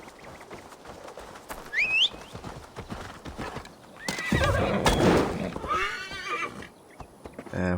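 Horse in the video game Assassin's Creed Valhalla, heard as a loud whinny and snort over soft clip-clopping hooves, with faint birdsong in the background.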